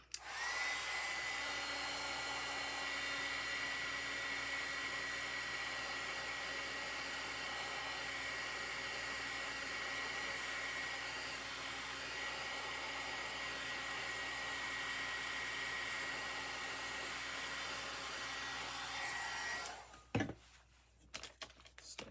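A hair dryer blows to dry paint on an Easter craft, a steady, close whirring drone with a thin whine that runs for about twenty seconds before it switches off, followed by brief handling clatter.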